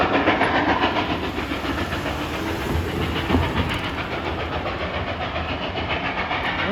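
Restored R&N 2102 steam locomotive running near Reading and Jim Thorpe, Pennsylvania, a continuous loud rumbling roar with hiss and faint rail clatter throughout, heard without speech.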